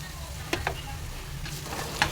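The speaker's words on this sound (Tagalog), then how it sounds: "Igisa muna natin yung mga sibuyas, bawang at saka luya" Onions, garlic and ginger sauté in a pan for shrimp cooked with Sprite, a steady sizzle broken by a few sharp spatula scrapes and pops, with no talking.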